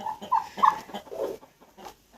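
Several short, loud clucking calls from a rooster close by, in quick irregular bursts, with no one talking.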